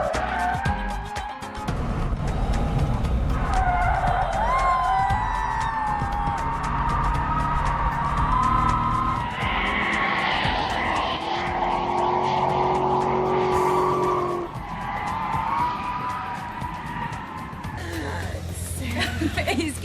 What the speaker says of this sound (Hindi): इसकी गाड़ी की स्क्रीचेस मुझे अंदर सुनाई दे रही थी।